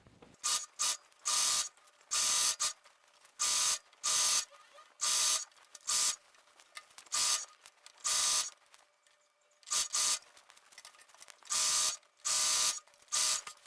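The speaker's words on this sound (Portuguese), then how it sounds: "Vou então fazer essa costura de um pezinho de máquina" Home sewing machine running a straight-stitch seam on a Vigo jumpsuit, in short bursts of mechanical whirring separated by brief pauses, fairly close and clear with no talk.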